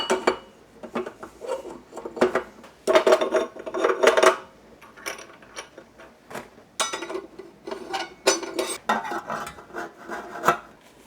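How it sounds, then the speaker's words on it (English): Metal meat grinder parts are handled in a kitchen: clinks, scrapes and rattles of metal pieces knocking together and against a surface in irregular close bursts, separated by short quiet gaps, with no talk. "this is a good time to take all the metal bits from your grinder and toss them in your freezer"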